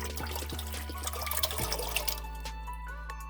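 Water from a bottle pours into a cooking pot, a close continuous gurgling stream whose pitch shifts partway as the pot fills, with light splashing and drips.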